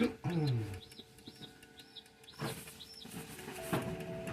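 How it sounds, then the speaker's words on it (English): Small birds chirping in short repeated peeps, fairly faint in the background, against a low steady hum. "I'm sure you can hear them in the background here chirping."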